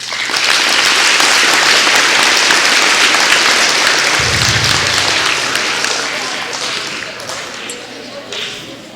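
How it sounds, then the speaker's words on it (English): A school crowd at a Veterans Day celebration claps loudly for a speaker coming up to read his speech, the applause holding strong then gradually thinning and fading toward the end. "I would like to have a round of applause for Mr. Croft"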